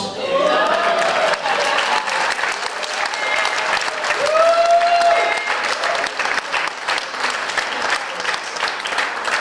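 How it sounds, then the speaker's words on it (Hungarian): Wedding guests at a Hungarian wedding reception applauding, a loud, close burst of many hands clapping that carries on for several seconds, with whistles and cheers mixed in. "Na mi van, hol a taps?"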